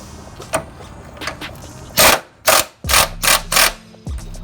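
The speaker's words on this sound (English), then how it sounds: "This front passenger side one, I'm just gonna get with the impact because I have access to it." Impact wrench loosening a front passenger-side engine mount bolt on a Honda Civic during engine removal, with several loud, close hammering bursts after a few faint clicks and taps, no talk.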